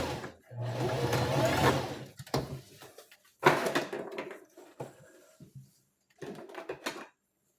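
A sewing machine stitches a seam on a combination spiral rose sleeve and stops at a marked point. Several short, close whirring bursts of stitching are separated by pauses and small handling clicks, with no talk.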